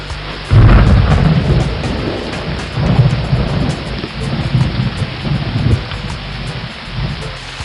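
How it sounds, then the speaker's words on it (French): Heavy rain pours steadily with a deep roll of thunder at the start and more rumbles following; loud, close and continuous, no voices. "Pour de nouveau remonter dans les nuages et retomber en pluie sur le ruisseau."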